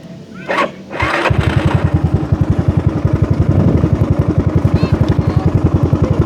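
A Yamaha Mio Soul scooter engine, apparently at stock compression, runs close by. It gives a steady, rapid putter after a couple of short revs at the start, and it is heard alone without talk.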